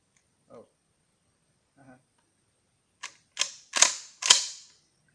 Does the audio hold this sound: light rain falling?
no